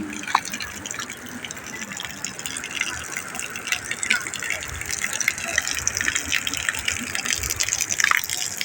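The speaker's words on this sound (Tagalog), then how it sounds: "Ayan po ang bukal. Libreng paliguan." Water gushing steadily from a natural spring used as an open bathing spot outdoors, a loud continuous rushing and splashing that fills the whole stretch, with voices faintly mixed in.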